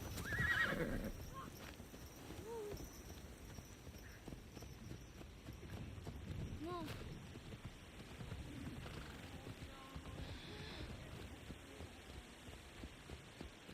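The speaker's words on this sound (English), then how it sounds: "Slow horse too." A horse in the video game Assassin's Creed Shadows gives two or three short neighs over a steady muffled clip-clop of hooves and low game ambience, fairly faint throughout.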